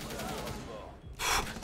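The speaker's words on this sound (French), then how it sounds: "Tu lui as collé une balle dans l'épaule quand même." A gunshot rings out during a Rainbow Six Siege match, a short sharp burst near the end that follows a stretch of busy game noise and faint background voices.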